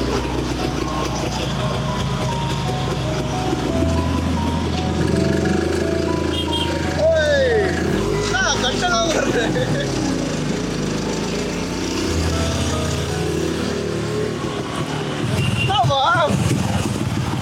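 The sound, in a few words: motorcycle engine running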